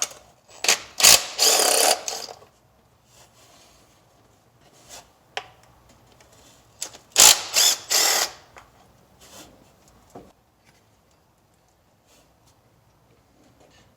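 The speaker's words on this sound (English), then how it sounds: "So we'll remove the rest of the bolts for the lower timing cover." Quick bursts of ratchet clicking as bolts come off the lower timing cover of a Toyota/Lexus 4.7 V8 engine, two main clusters of rapid clicks separated by quiet pauses with faint tool clinks, close up.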